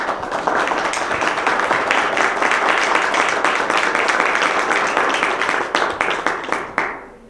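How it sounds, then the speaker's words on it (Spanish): Audience applause at the opening of an anticorruption panel discussion in Mexico City: a full room claps steadily and loudly for several seconds, then the clapping thins and fades out. "Les pido un aplauso,"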